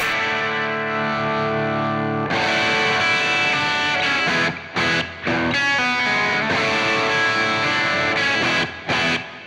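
Electric guitar played through a Hiwatt-style Crazy Tube distortion pedal, loud sustained distorted chords ringing with rich harmonics, broken by a few short gaps between strums.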